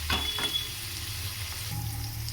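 Prawns and taro leaves cook slowly over a low gas flame, a soft sizzle broken by a couple of brief stirring scrapes near the start, fairly quiet and with nobody speaking.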